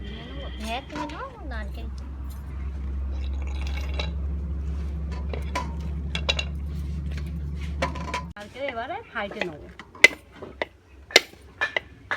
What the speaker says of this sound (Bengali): ভালো করে জল দিয়ে পরিষ্কার করে নেব